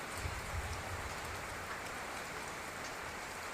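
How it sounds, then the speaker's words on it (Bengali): Steady rain falls in the early morning, a constant soft hiss of drops on surfaces, even and unbroken, heard fairly faintly with no voices. "অনেকক্ষণ থেকে বৃষ্টি হচ্ছে"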